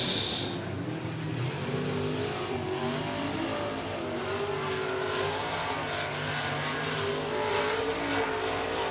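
Street stock race cars roar around the 105 Speedway oval during a heat race, a steady, loud blend of engines at full throttle with layered cars passing close, continuous for the whole stretch with no voices.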